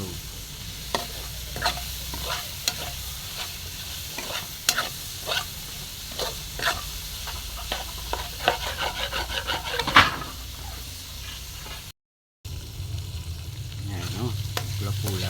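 Lechon and mushrooms fry in a pan, a continuous close sizzle broken by repeated scraping stirs of a utensil against the pan, with a brief dropout near the end.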